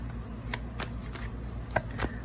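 Tarot cards are shuffled in quick, papery riffles and soft taps, several bursts in a row, close and fairly quiet with a low hum beneath.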